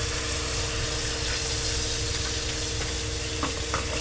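Gobi manchurian frying in a pan as soy sauce goes in, a steady close sizzle with light stirring scrapes throughout, no voices.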